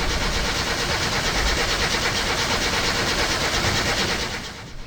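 In the My Summer Car video game, a car engine starts and runs with a loud, dense, rapid rattling clatter throughout, close and steady, before dropping off abruptly at the very end.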